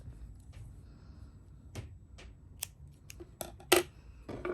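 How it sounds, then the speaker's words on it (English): Scissors snip through blue yarn during crochet work on a double crochet dress, a few short, sharp cuts spaced irregularly, quiet and close, with soft handling rustles between them. "So right now I'm gonna cut off my blue yarn."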